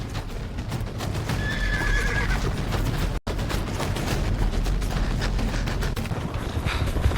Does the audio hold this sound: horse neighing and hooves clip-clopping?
yes